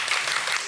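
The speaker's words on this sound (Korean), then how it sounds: "오늘 매운맛에 대해서 새로운 세상을 열어주신 강 교수님께 여러분 큰 박수 부탁드리겠습니다." A short burst of audience applause for a professor after a science talk on spiciness, a dense, even wash of many clapping hands at steady loudness with no talk over it.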